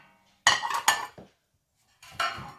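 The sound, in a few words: IKEA plates clattering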